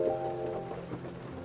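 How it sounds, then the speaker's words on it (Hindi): Rain falling in a steady, close patter that holds an even hiss throughout, with faint tonal hum underneath and no voices. "इतने दिनों बाद बारिश हो रही है"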